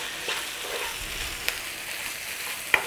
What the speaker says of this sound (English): Nice little sizzle whizzle.